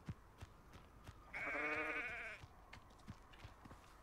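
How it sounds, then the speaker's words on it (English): A single sheep bleats once in the video game Hogwarts Legacy, a wavering bleat lasting about a second over quiet game ambience with faint footsteps. "Oh, sheep!"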